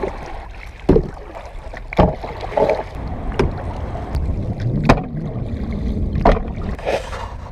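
A tucktec BOTO folding kayak being paddled on open water: rhythmic paddle strokes with splashes and knocks about once a second, over soft wind rumble and lapping water.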